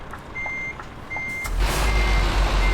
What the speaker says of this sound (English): we'll put our window down so you can hear beeping again